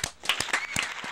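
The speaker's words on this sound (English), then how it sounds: "Let's have a big round of applause for Ricky Mena" A studio audience claps for a guest on a talk show, a brief burst of hand clapping that sounds sparse and close, with a few distinct claps standing out.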